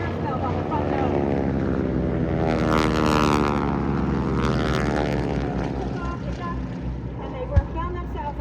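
A P-40 Warhawk propeller fighter flies over an airshow in St. Joseph, Missouri. Its engine gives a steady, loud droning hum that swells around the middle of the pass and then eases off.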